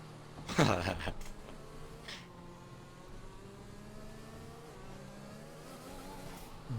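In a Hungaroring race of an esports racing game, a race car engine revs up sharply once and then drops to a low, steady drone, with a voice talking over it.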